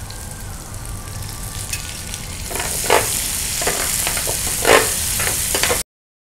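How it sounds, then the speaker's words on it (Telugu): Tomato pieces dropped into a hot pan for chicken curry start a loud, crackling fry, with splattery bursts and stirring scrapes after a quieter opening, ending abruptly. "టమాటా ముక్కల్ని ఇందులో వేసుకోవాలి కొంచెము"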